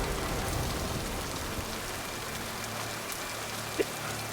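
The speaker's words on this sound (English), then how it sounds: "The rain effect is good." Steady in-game rain on a planet in Mass Effect 2, a soft, even hiss of falling drops with no voices, holding at a constant moderate level throughout.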